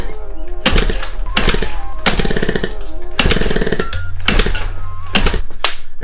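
A Zuma 50F two-stroke scooter engine cranks and fires in loud, harsh bursts, sputtering and catching in uneven runs of rapid knocking with short gaps between them, very close and raw, with no voice.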